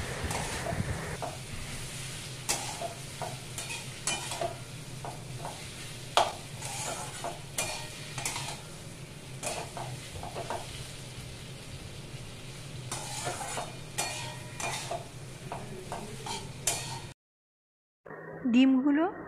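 Spatula stirring boiled egg pieces through fried spice masala in a pan, with repeated scraping strokes over a steady sizzle and spoken voice throughout, ending in a brief silence and a last clatter.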